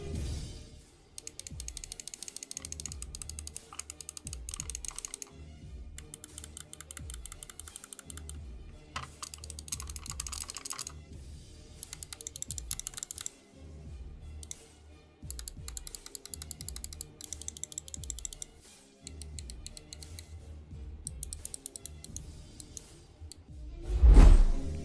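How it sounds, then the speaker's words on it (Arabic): Rapid, dry clicks from the buttons of a Devo gaming mouse, close up, in repeated bursts of fast clicking separated by short pauses, with a louder thump at the end. "طبعا نجرب الكليكات"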